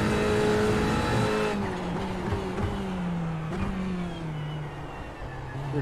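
A race car in the iRacing simulator carries a steady, loud engine drone with whining gear tones that drop on downshifts and climb again under acceleration, a continuous close in-car sound.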